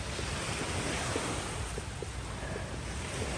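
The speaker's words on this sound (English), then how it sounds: "with any luck you can hear the waves from the ocean" Steady ocean surf washing in at an outdoor spot, a continuous broadband roar with gentle swells, mixed with wind noise against the microphone and faint activity in the background.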